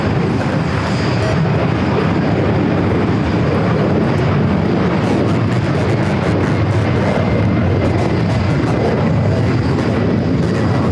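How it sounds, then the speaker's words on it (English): Emirates airliner descending to land on runway 4R at JFK, a steady loud broadband jet rumble and rush throughout, close by and unbroken, with no talk over it. "Emirates making its way down to 4 right here at JFK"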